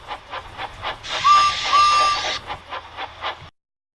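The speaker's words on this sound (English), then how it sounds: "He soon found Edward shunting trucks in the yard." A steam engine shunts trucks in a railway yard with rhythmic chuffing puffs. A burst of hissing steam and two short whistle toots sound partway through, then the sound cuts off abruptly.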